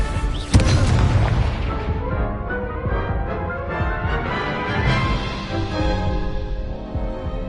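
A Confringo explosive spell blast in the Hogwarts Legacy video game: a sharp loud boom that leads into a dense, sustained rumbling roar of combat effects. The blast decays slowly over several seconds and no one talks.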